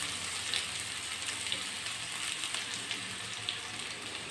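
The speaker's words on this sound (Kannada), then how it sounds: "ಈಗ ಈರುಳ್ಳಿ ಹಾಕ್ತಿದ್ದೀನಿ." Onions sizzling in hot oil with garlic in a pan for a Kannada vegetable upsaru, a soft steady crackling fry with small pops, fairly quiet and alone.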